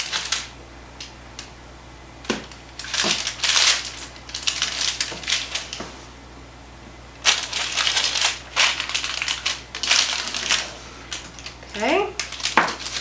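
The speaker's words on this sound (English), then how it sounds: "Then I'm going to cut these in half." A sharp knife cuts through blackberry lemon scone dough on a board in a series of crunchy, irregular chops and taps, with brief quiet gaps between strokes and a person speaking at times.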